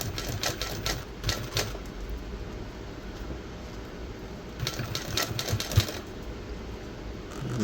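A sewing machine stitching a subwoofer enclosure cover at low speed, giving several short bursts of rapid mechanical clatter with brief pauses between them.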